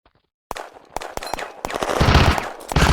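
Loud bursts of machine gun fire from a video game firefight break in after a short silence, building into dense rapid automatic fire with sharp separate shots.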